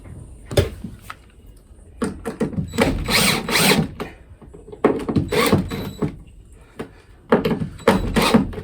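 A power drill drives longer screws into a narrowboat window liner in repeated short bursts with brief pauses, close and fairly loud, with no talking.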